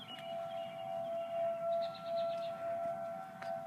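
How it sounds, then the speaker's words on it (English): Tornado sirens drone as a faint, steady, distant tone during a storm with lightning, holding nearly constant pitch under a soft rushing background. "Tornado sirens blaring right now,"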